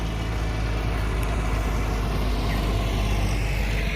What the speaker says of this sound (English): a truck coming down right now. Pretty loud